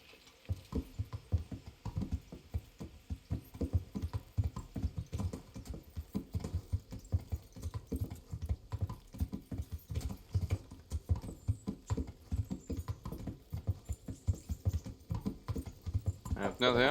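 Horse hooves clip-clop in a steady, quick rhythm through Kingdom Come: Deliverance, faint and close, running continuously under light background ambience.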